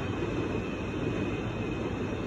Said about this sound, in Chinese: 不知道为什么它这里这个地铁的声音非常响